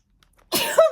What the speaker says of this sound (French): Et je vais éternuer, mes amis.